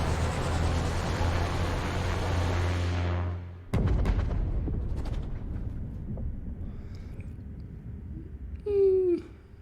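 A sudden loud explosive boom cuts through a rumbling, busy soundscape in The Outer Worlds, followed by scattered crackles and a brief high whistle.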